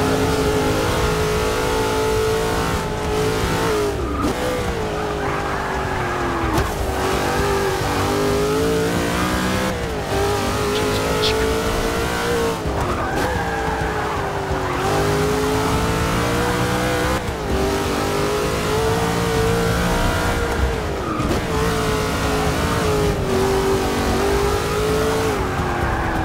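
Race car engines in Forza 6 roar continuously and loud, revving up and dropping through gear shifts, with tire squeal and skidding woven through the whole stretch.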